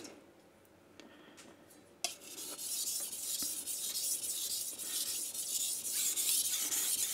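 A steel blade grinds back and forth on a King G-45 220 grit whetstone, a steady close rasping scrape that starts after a brief quiet stretch and then runs continuously and evenly.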